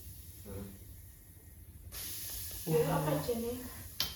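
Banana slices frying in hot oil give off a steady hiss and sizzle that swells louder partway through, while a person speaks over the cooking.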